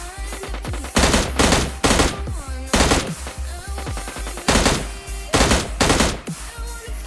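Rapid bursts of M416 rifle fire in the mobile shooter PUBG Mobile Lite, several loud automatic volleys spaced over a few seconds with game ambience between them and no talking.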